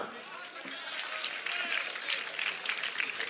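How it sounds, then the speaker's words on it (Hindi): Audience applause at a mushaira poetry gathering in Chakrapanpur, Azamgarh, a steady broadband patter of many hands clapping throughout, with crowd noise mixed in. "जोरदार तालियां।"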